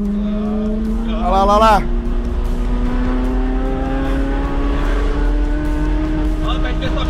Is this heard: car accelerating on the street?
yes